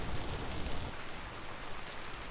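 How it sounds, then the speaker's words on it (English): Steady rain falls in the video game Vintage Story, a soft continuous hiss of drops, even and moderately quiet with no other sounds. "And it's still raining."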